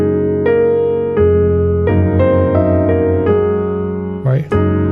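Piano playing section B1 of Mussorgsky's Promenade from Pictures at an Exhibition: a series of sustained chords struck one after another at a moderate pace, close and clear, with a brief noisy disturbance near the end.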